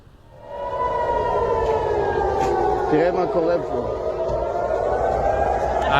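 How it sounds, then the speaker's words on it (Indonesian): A loud, sustained air raid siren wails continuously across Tel Aviv during an Iranian missile attack, its pitch wavering slightly, with voices and crowd noise faintly underneath. "Sirine tanda peringatan terdengar di sejumlah titik di Tel Aviv."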